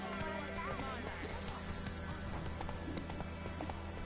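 Roach, a horse in The Witcher video game, gallops with a steady, rhythmic clip-clop of hooves and a brief whinny, while voices and background sound carry on beneath.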